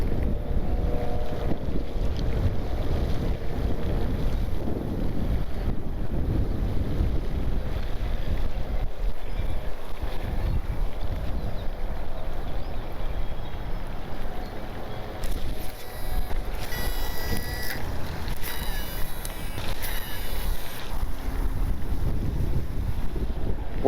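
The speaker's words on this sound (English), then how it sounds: "We got a little bit of wind going on here" Steady wind roars and buffets the microphone outdoors beside a small fishing pond, a constant loud rush with no pauses and some faint higher rattling in the second half.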